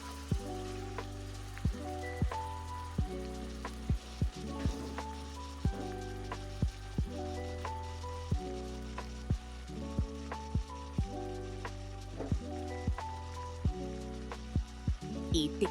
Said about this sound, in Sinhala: ඊට පස්සේ අපි කලින් මැරිනේට් කරගත්ත චිකන් ටික තාච්චියට එකතු කරගන්නවා.